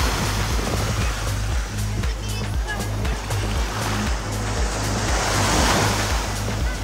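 Sea waves surging steadily onto a beach at Morro de São Paulo, a continuous loud wash of surf with wind rumbling against the microphone, no voices.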